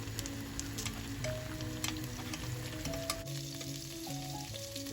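Zucchini frying in oil in a pan, a dense steady crackling sizzle close by, with a few scraping knocks as the slices are turned, no talking.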